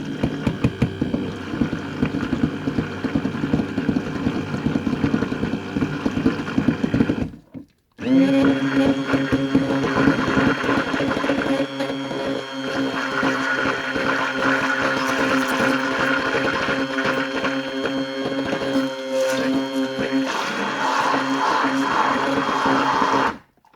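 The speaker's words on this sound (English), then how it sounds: "Take my stick blender and just do it on low." A stick blender mixing soap whirs steadily at low speed, pausing briefly once before running on with a constant motor hum.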